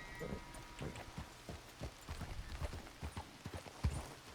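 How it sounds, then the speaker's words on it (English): Horse hooves clip-clop in Red Dead Redemption 2 inside a barn, a steady run of distinct, fairly close hoof strikes at a walking rhythm with no talking over them. "That's a pretty good horse."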